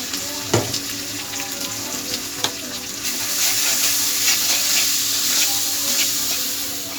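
Food frying in a pan just after turmeric goes in is stirred, giving sizzling with a few sharp scrapes of the utensil, and the sizzle grows louder and denser partway through.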